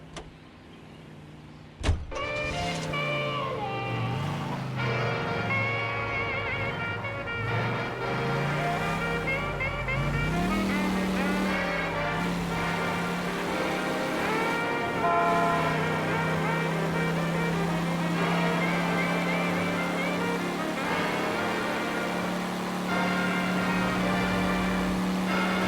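A car in the video game L.A. Noire starts with a sharp thump, then its engine revs up and down in rising and falling tones before settling into a steady, loud cruising hum.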